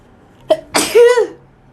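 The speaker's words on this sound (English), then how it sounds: "Uh-oh, I'm going to sneeze." A single sharp sneeze from one person indoors: a short intake breath, then a loud explosive burst with a drawn-out voiced tail, close to the microphone and otherwise quiet.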